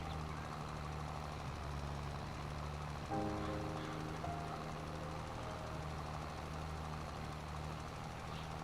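A tractor engine idles in Farming Simulator 22 with a steady low drone and a faint whine that rises briefly partway through, continuous and even throughout.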